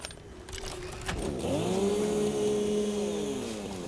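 Chainsaw cutting wood in the video game Satisfactory, a whining motor that rises in pitch and then holds a steady drone with a buzzing edge, moderately loud and alone.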